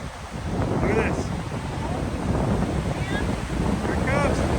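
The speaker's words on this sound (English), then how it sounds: "Look at these waves." Ocean waves break along the California coast, a loud, continuous wash of surf mixed with strong wind buffeting the microphone, with faint bird calls heard above it.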